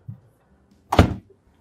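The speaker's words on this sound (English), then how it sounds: "You see our door swings all the way around." A bathroom door in a fifth wheel travel trailer swings open, giving one short wooden thud and rattle after a faint earlier tap, close by with no voices.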